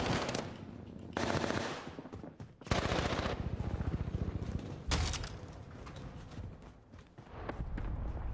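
Rapid automatic gunfire in an online shooter video game, dense bursts of shots in several loud stretches with brief gaps between them.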